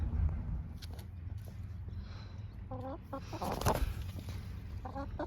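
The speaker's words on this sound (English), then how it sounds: "You guys are all crazy birds." Backyard chickens clucking in short stacked bursts over steady outdoor background noise, with a louder cackle near the middle, moderately close.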